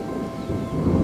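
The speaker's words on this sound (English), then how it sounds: "We've created rain" Rain and rolling thunder created in the video game Terra Nil, a short steady low rumble with rainfall over it and no voices.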